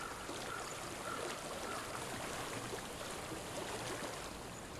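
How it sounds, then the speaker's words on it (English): Steady, loud rushing of flowing water in the video game Hellblade: Senua's Sacrifice, a broad continuous wash that fills the whole stretch with no talk over it. "Tô ouvindo barulho de água bem alto aqui"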